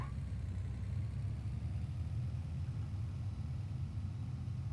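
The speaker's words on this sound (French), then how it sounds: "le moteur, il a un peu du mal quand même" A car engine in the BeamNG driving game labors under load, giving a steady low rumbling drone with no clear revving changes and no talking.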